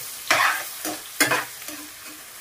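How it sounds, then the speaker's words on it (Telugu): Bitter gourd pieces fry in a pan for a coconut-spiced kakarakaya dish, with a few distinct bursts of stirring scrapes over a steady low sizzle, close by and with no talking. "మన కాకరకాయ ముక్కలు చక్కగా వేగుతున్నాయి."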